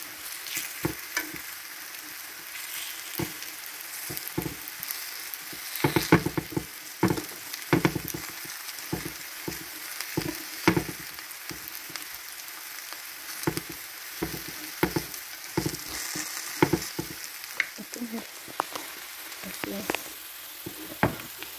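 Plantains fry in butter in a pan, a bright steady sizzle with frequent pops, spatters and irregular scraping and turning noises throughout.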